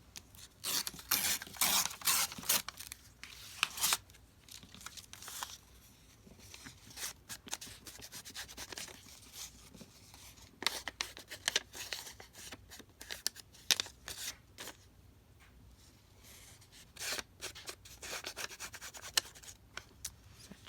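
Purple paper torn at an angle for a paper craft project, heard close and quiet as a series of dry rips and rustles that come in bursts, with softer scraping in between.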